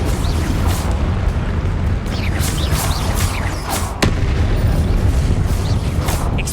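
Confringo fire-blast spells exploding in Hogwarts Legacy combat: repeated loud booms and bursts over a continuous roar of battle noise, with a sharp crack near the middle.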